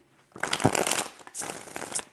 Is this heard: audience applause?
no